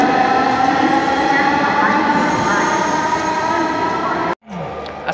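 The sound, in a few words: metro rail train travelling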